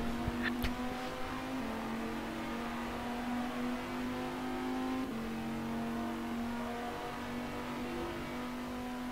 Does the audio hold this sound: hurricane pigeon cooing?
no